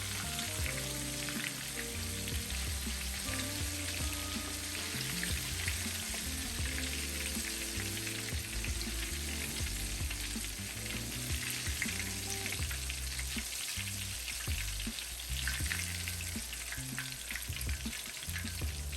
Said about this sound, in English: I still got some frying, so I'm just adding to it